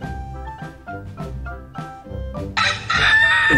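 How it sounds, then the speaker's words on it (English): A rooster crows loudly and close by in a single long cock-a-doodle-doo near the end, after a few seconds of soft repeating tones. "Rooster."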